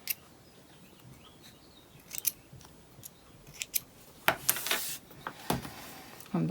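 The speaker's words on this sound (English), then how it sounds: "So now we're just going to trim up some threads." Scissors snipping loose threads on a fabric keychain fob made from scraps, a series of quick, close, crisp snips of varying loudness in an otherwise quiet room.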